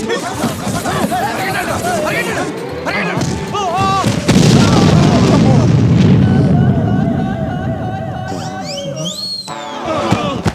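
A bomb goes off midway through a comedy scene as a deep, loud rumbling boom that swells and lingers, while several people shout and talk excitedly over it.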